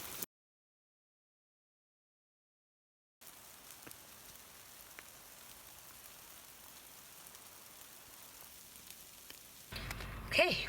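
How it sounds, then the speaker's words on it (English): Steady rain falling on a nature trail through the redwoods at Prairie Creek, a soft continuous hiss that lasts for most of the clip after a brief silence, growing louder near the end. "As you can tell, it's really raining"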